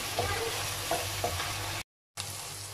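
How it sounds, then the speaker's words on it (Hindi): Potatoes frying with masala spices in a pan, a steady close sizzle broken by a few light stirring scrapes, with a brief gap of silence near the end before the frying resumes. "आलू जो हैं मैंने मसाले के साथ इनको भुना है थोड़ी देर तक"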